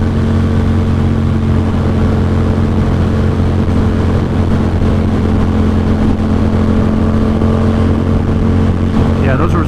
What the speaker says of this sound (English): you just want to hear this bike